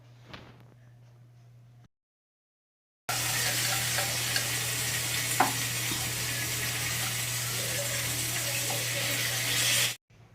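Cooked chicken stirred into masala in a pan, frying with a loud steady sizzle for several seconds after a short quiet stretch, with faint clinks of stirring.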